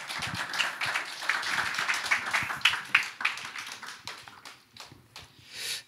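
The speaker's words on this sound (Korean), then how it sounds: "우리 박수로 환영하도록 하겠습니다" A church congregation gives a pastor a welcoming round of applause, a scattered patter of hand claps that thins out and grows sparser toward the end, at moderate level in the room.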